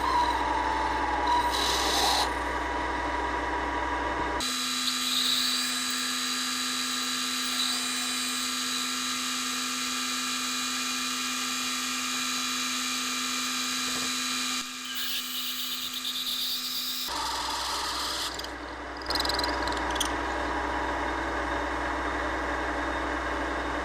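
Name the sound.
drilling a hole in a pen blank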